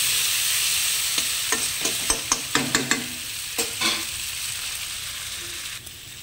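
Reddened onion fries and sizzles steadily in a pan as spices go in, with a series of sharp stirring clacks and scrapes over the hiss, close and fairly loud.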